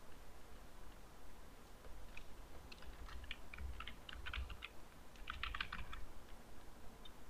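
Quiet, rapid key clicks come in short bursts on a computer keyboard, faint over low background hiss, with no one talking.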